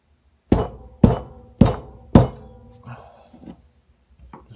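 A screwdriver is knocked into a wall to punch a hole for hanging a clock: four sharp, evenly spaced taps, close and loud, followed by a few softer, fainter knocks.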